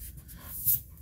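Soft scratchy strokes of a pencil moving across paper, close and quiet, with a brief brighter scrape partway through.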